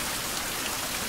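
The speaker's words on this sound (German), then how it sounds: "Vielleicht hört dann auch der Regen auf." Steady rain falls inside a survival video game, a dense, even patter with no break or voices.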